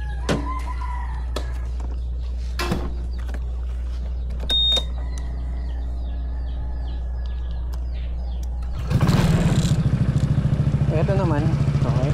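A Honda ADV160 scooter with a BSM powerpipe exhaust and no silencer: quiet outdoor ambience with a rooster crowing and faint voices, then the engine bursts into a loud, raspy, throbbing rev that continues to the end.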